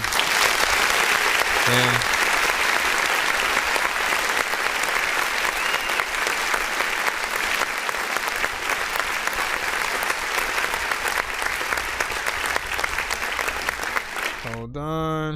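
A long, steady round of applause for the records played on a live independent-artist music review show. The clapping continues unbroken, and a voice briefly speaks at the very end.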